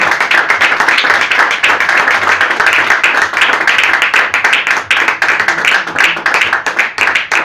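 A church congregation claps for Jesus during a Spanish-language sermon: loud, steady, rhythmic clapping from many hands that fills the room without pause.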